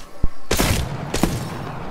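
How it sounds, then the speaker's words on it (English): Bursts of gunfire in an online shooter video game: a short sharp shot, then two longer loud rattling volleys about half a second apart. "I am taking fire, friends."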